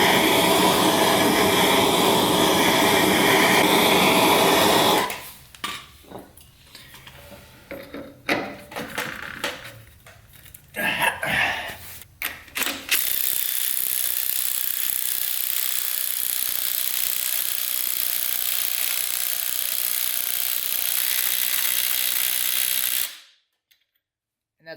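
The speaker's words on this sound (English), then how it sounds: "that's a 1/4 inch impact, guys" A 1/4 inch impact wrench fits a crank pulley with a long, loud continuous buzz, then rattling bursts and clanks, then another sustained run before stopping abruptly.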